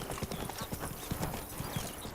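Roach the horse trots in The Witcher 3, a quick, steady clip-clop of hooves close by and moderately loud, with game ambience and faint voices underneath.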